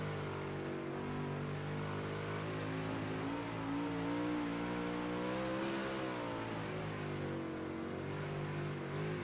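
Super late model race car engine recorded onboard during a lap of a half-mile racetrack, a loud, continuous droning roar whose pitch rises and falls gently with throttle through the turns, with no talk.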